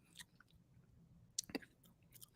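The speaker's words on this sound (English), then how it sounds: "Can you hear my chewing, by the way?" A person chews food right at the microphone, with faint soft mouth sounds and a couple of sharper crunchy bites in the middle, quiet and without talk.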